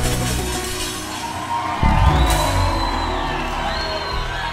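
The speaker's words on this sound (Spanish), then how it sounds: "Un aplauso para ustedes." A concert audience at a show cheers and shouts in a continuous loud roar, with a sharp bang partway through and voices carrying over the din.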